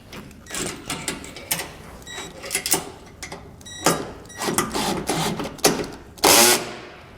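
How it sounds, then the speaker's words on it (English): A wrench tightens bunk board bolts on a boat trailer carrying a CE Smith carpeted johnboat bunk, giving repeated close ratcheting clicks and metallic bursts in uneven spurts, ending in a louder grinding rasp, no voices. "Once it's in position, take our wrench,"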